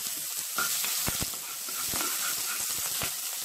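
Finely chopped onion sizzles steadily in a splash of oil in a pan, the start of a béchamel, a close, continuous frying hiss with a few soft stirring knocks.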